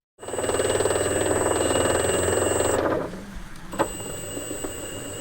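A steady, buzzing direct-drive RC model boat motor whine with a high tone runs loudly for about three seconds, then cuts to a quieter hum with a brief click.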